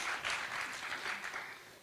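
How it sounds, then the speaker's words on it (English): An audience at a City of Johannesburg induction event for municipal entities breaks into steady applause that continues evenly throughout, with no talking over it. "Can we please give him a round of applause?"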